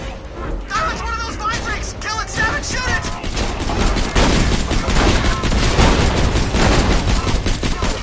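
Gunfire from shooting a Vine Freak in Borderlands 2: dense, rapid bursts of shots build and keep going, loud and sustained, with voices talking over the first part.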